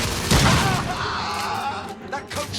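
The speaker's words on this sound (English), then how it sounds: "That coach gun is tearing us apart!" Coach gun blasts boom out in a Victorian-era firefight in The Order: 1886, with a heavy close shot near the start and scattered gunfire, thuds and a shouting voice mixed in.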